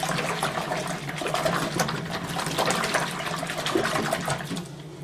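Water is swished around in a jar while washing wool, a continuous soft sloshing and gushing that stays close and steady throughout.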